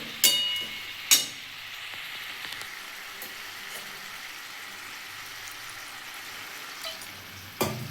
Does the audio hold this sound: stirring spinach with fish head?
yes